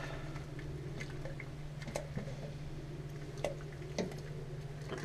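Wort being stirred on brew day after the pump is shut off, soft intermittent liquid sloshes and drips with small clicks over a low steady hum, faint and close.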